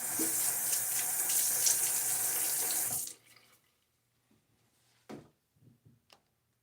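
A tap runs steadily into a sink for about three seconds as water is splashed on the face before a wet shave, then stops, leaving a few faint drips and small handling sounds.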